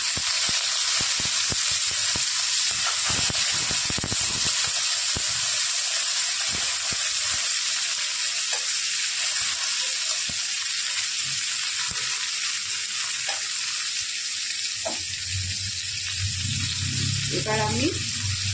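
Chopped capsicum and green chili frying in a pan for a chili omelette, giving a steady close sizzle and hiss, with scraping and stirring knocks from the utensil throughout.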